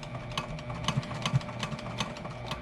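A sewing machine runs steadily, stitching bias tape ties onto a fabric face mask, a close, even mechanical whir with regular rhythmic needle clicks throughout and no voice.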